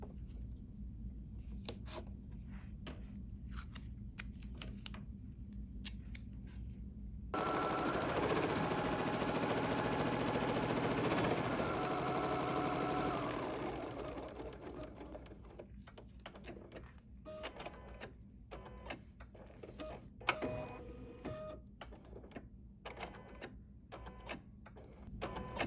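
An embroidery machine sews tack-down stitches on a wallet project, its needle tapping in a fast steady rhythm, with a smoother, denser run of stitching in the middle, moderately quiet and close, no voices.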